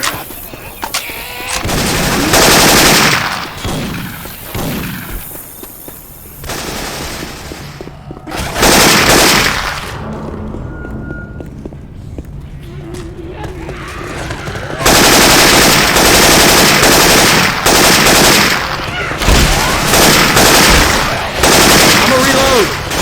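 Syphon Filter weapon sounds in Left 4 Dead 2, loud bursts of rapid automatic gunfire in long stretches with brief pauses, game character voices speaking in between.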